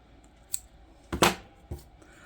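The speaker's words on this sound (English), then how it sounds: "I'm going to cut this piece of thread off now." Scissors snip crochet thread for a Tunisian crochet headband: a few crisp, close cuts, one light snip followed by two louder ones, in a quiet room with no talking.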